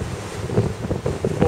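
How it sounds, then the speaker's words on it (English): Strong wind buffets the microphone at a mountain summit on High Raise in the Central Fells, producing a steady loud roar with gusty swells throughout. "You can probably hear a background noise. It's seriously windy."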